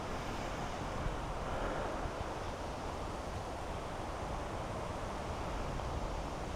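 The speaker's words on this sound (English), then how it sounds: "Wind off the left." Wind sweeping across a golf course, a loud, constant broadband rush buffeting the microphone with no pauses and no talk.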